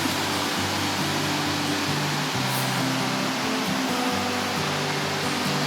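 River water flowing into a pool in the Lake District, a steady, even rushing wash that holds at a moderate level with no breaks.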